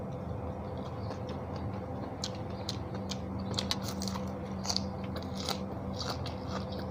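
Crispy fried mackerel gets bitten and chewed close up, a run of sharp crunchy cracks coming in irregular bursts over a faint background hum, with no talking.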